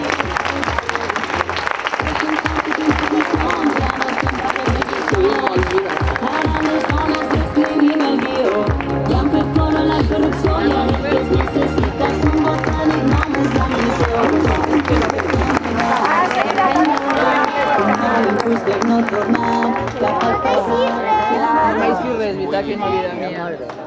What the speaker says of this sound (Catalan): Un aplaudiment per a Vivi.